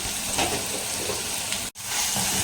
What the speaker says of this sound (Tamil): வெங்காயம் தக்காளி நல்லா வதங்கிடுச்சுங்க